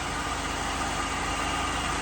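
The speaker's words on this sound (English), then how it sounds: "That 305 V8 purrs like a kitten." A 1985 Chevy Caprice Classic wagon's 305 V8 idles steadily and smoothly, a close, even low rumble with a constant mechanical hum and no voices over it.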